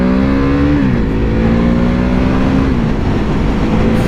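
Ducati Hypermotard 950 motorcycle engine pulling hard on a road in Thailand: a loud, continuous close-up drone whose pitch steps down mid-pass before holding steady again.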